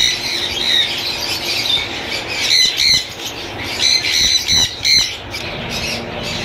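Blue turquoise parrots squawk at a Sunday bird market in Bahawalpur, with harsh repeated calls in short clusters over a busy, noisy background, fairly close and loud.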